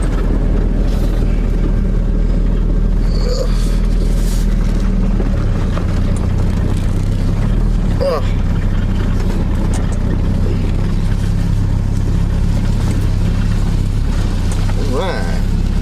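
A 1979 Triumph Spitfire with a new battery drives along, its engine a steady low droning hum with one gear change partway through, heard from inside the car over a loud continuous rumble.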